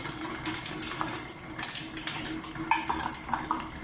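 Chocolate chips folded into cookie dough in a mixing bowl, giving repeated scraping and knocking of a utensil against the bowl in an irregular rhythm, close and fairly quiet with no voices.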